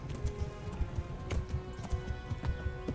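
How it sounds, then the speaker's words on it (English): A horse's hooves pound in a fast, steady galloping rhythm close up in the video game Kingdom Come: Deliverance, with thudding beats over a dense wash of background noise. "Let's just do a regular gallop here."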